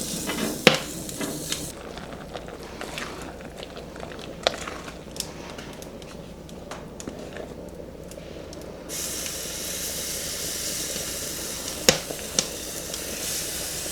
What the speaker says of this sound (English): So you want it to sizzle. When you add your fat, you can add lard, bacon grease, butter like I'm doing.